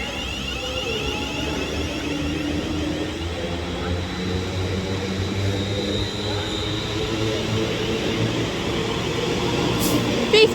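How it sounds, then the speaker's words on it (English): A train pulls into platform 1 at Stafford station on the West Coast Main Line, a steady low rumble with a broad whoosh growing slightly louder toward the end, no talk over it. "Please do not board the next train to arrive at platform number 1"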